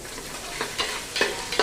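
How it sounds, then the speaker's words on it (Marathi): Paneer sizzles in a hot pan with ginger garlic paste while a spoon stirs it, giving a steady frying hiss with a few sharp scraping strokes near the end, close and clear with no talking. "आलं लसूण पेस्ट याच्यामध्ये घालायची आहे"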